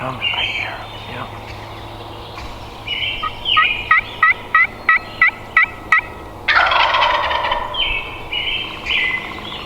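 A wild turkey on public land in Massachusetts gobbles from fairly close, a rattling burst of repeated notes followed by more calling, while hunters whisper quietly nearby.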